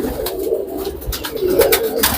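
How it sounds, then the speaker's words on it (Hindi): Several Allahabadi pigeons coo in low, rolling phrases close by, with overlapping calls rising and falling across the stretch over steady background rustle. "सारे शानदार कबूतर यहाँ पर हमें मुन्नू भाई दिखा रहे हैं"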